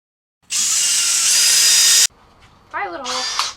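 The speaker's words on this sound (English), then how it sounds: "drill some holes." Power drill boring holes to mount a spoiler on a 1972 Oldsmobile Cutlass, a loud high whine held for about a second and a half, then a shorter burst with a rising, wavering pitch, close by with a voice briefly in between.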